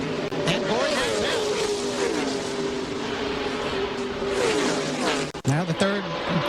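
NASCAR Winston Cup stock cars roar around Talladega in the 1998 Winston 500, a steady high engine drone from the pack running side by side, with brief dips and swells as cars pass, under continuous race commentary.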